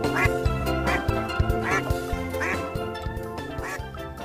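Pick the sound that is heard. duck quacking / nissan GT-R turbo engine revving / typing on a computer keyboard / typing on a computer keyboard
duck quacking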